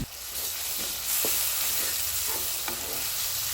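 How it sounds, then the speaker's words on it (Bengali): Spices with ginger-garlic paste sautéing in a pan for a goat meat curry, a loud continuous hiss of frying broken by a few soft scrapes of stirring, close up and without talk. "এখন নেড়ে চেড়ে আমাদের এগুলো ভালোভাবে কষিয়ে নিতে হবে।"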